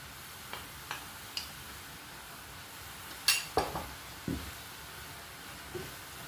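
Corn flour is mixed into vegetable stock with a utensil. About eight scattered, sharp clinks and taps against the container are heard, faint and close, with quiet pauses between them.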